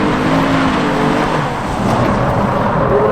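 A 2018 Kia Stinger GT on Michelin all-season high-performance tires drives hard, its engine a steady, loud drone with a rising tone as it accelerates through a corner, filling the whole moment without talk.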